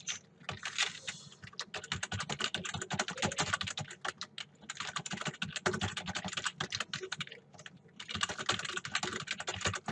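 Rapid, continuous clacking of keys on an Everest KM-6825 computer keyboard, close and steady, with brief pauses between bursts of typing.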